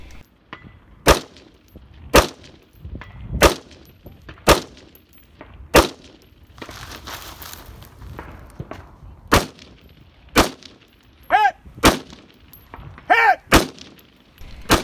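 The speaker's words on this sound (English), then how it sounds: "From this position I engage a rifle plate rack that has 6 targets." Rifle shots ring out at an outdoor 3-gun match aimed at a six-target steel plate rack, a dozen sharp loud cracks at irregular spacing, several followed by a ringing metallic clang from struck plates.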